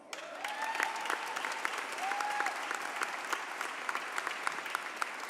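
Audience applause at a Mexico flag raising ceremony, a steady wash of many hands clapping at moderate distance, with a few brief whistle-like tones rising above it.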